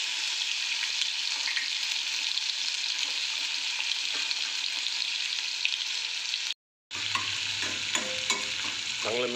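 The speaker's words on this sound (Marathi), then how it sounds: "फोडणी तडतडली आहे." Chili-garlic paste hits hot oil already holding crackling mustard seeds and cumin in a pan for a mixed-vegetable Kolhapuri dish. A steady hissing sizzle breaks off briefly, then comes back with stirring clatter, close and with no talk.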